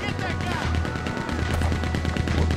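Machine gun fire in Red Dead Redemption II, a rapid continuous burst of loud shots hammering throughout, with a voice speaking over the gunfire.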